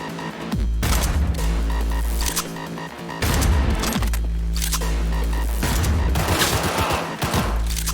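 A firefight in a video game: loud, dense volleys of gunfire come in several sustained bursts with brief lulls between them, close and continuous for most of the stretch.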